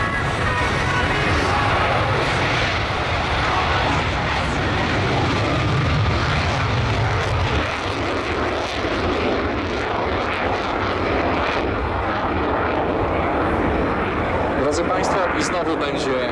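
A Ukrainian Air Force Su-27 jet flies a display at the Radom 2013 air show, a loud, continuous roaring engine that fills the whole stretch, with announcer talk partly audible beneath it.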